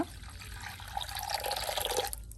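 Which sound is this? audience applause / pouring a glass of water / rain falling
pouring a glass of water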